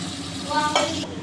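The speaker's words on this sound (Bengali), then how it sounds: "তো চিংড়ি মাছগুলো দিয়ে দিয়েছে এবার এটাকে ফ্রাই করে নেবে" Prawns fry in a kadai for a prawn curry, a loud continuous sizzle with a brief stirring scrape partway through.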